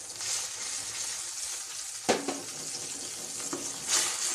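A whole-spice masala paste sautés in oil in a pan for a Maharashtrian patwadi rassa, giving a steady soft sizzle broken by a few clinks and scrapes of stirring.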